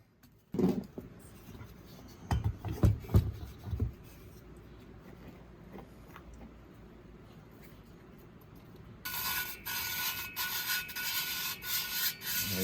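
Gritty back-and-forth rubbing and grinding in short bursts as a VW Beetle cylinder head valve is hand lapped, close by, then quieter scraping with a brighter hiss coming in toward the end.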